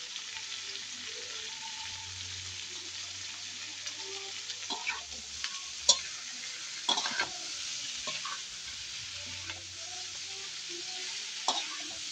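Lots of garlic fries in cooking oil in a pan, a steady soft sizzle under occasional clinks and stirring scrapes, close and moderately loud, with no talking.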